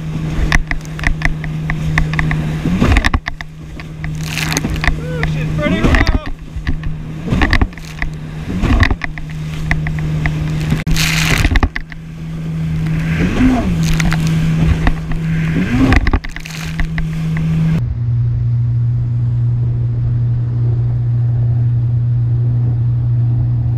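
A 2019 Yamaha FXHO personal watercraft rides over choppy water with whitecaps, its engine droning steadily and loudly close by while repeated slams and splashes of the hull on the waves punctuate it, before the pitch drops lower near the end.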